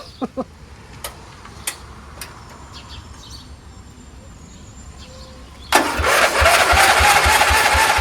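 A Dayton 11HP lawn tractor engine, freshly fixed after a leaking gasket, is cranked: a few clicks and ticks, then at about six seconds the small engine catches and runs steadily and loudly, close by.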